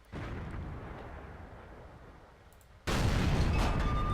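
Tiger II tank cannon shot striking a rock in World of Tanks, a rumbling low roar followed by a sudden louder crashing burst near the end.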